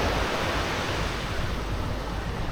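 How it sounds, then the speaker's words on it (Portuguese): Ocean waves break steadily on Canasvieiras beach, a loud continuous rushing wash with no separate crashes, heard up close and without voices. "Barulhinho das ondas embalando a nossa caminhada."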